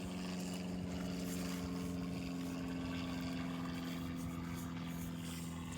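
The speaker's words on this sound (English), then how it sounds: "As the plane goes over and ruins me video" A propeller airplane passes over a carp fishing lake at Lindholme Lakes, its steady engine drone holding continuously at moderate loudness over quiet outdoor ambience.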